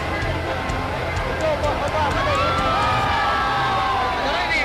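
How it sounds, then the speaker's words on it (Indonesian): Thousands of people lining a street cheer, clap and shout "merdeka" in a dense, continuous roar, with overlapping shouts and applause. "disambut gemuruh tepuk tangan dan pekik merdeka dari ribuan rakyat"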